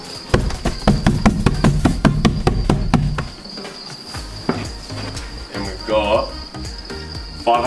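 Crickets in a breeding container during harvesting chirp in a steady high-pitched trill, while clattering knocks and handling noises dominate the first few seconds and quieter shuffling follows.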